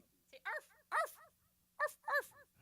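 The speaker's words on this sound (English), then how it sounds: "So we have a guest puppy." A visiting puppy gives several short high whimpers and yips in two pairs, close and clear against a quiet room.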